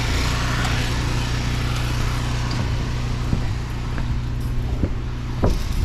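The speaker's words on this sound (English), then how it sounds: "Down here below me, that's our paint pump" Paint pump for spraying roof coating running steadily, a loud continuous motor drone with a low rumbling hum and occasional faint clicks, unbroken for several seconds.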